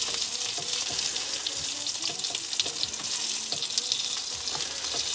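Sausages sizzle in a frying pan as they are rolled over, a steady bright hiss with scattered small pops and occasional scrapes, close and moderately quiet, with no talking.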